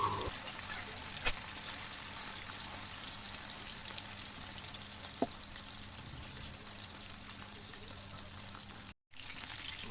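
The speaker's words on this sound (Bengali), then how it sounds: "সেম একইভাবেই আমি এগুলো তেলে ছেড়ে দেই" Pieces of chicken coated in cornflour fry in hot oil with a constant soft, fizzing bubble and crackle, broken by a couple of sharp pops, heard alone at a quiet, even level.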